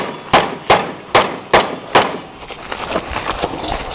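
Five sharp metallic pings of gunshots hitting steel targets at a shooting range in Mesa, Arizona, in quick succession, evenly spaced, followed by fainter rustling and background noise.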